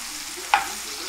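Stuffed cabbage parcels filled with meat fry in a pan with a steady, soft, close sizzle, broken once by a single sharp tap or pop midway.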